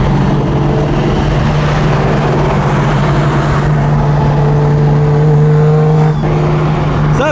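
A single-turbo BMW M3 driving, heard as a loud, close, continuous engine drone with a steady low hum and a slight pitch shift near the end, with no talking.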